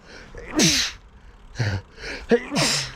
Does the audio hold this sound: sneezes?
yes